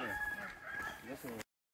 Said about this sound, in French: il y a des coqs sur les pentes du volcan